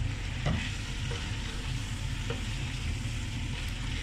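Colourful cut vegetables and lemon juice hit chicken jalfrezi in a hot pan, giving a loud, dense, continuous sizzle with a couple of faint utensil taps, heard close and without speech.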